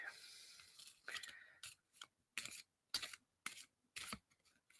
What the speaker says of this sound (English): I was sat there shuffling the cards.